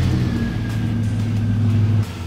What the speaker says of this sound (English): Now we'll start the vehicle and see our running pressure.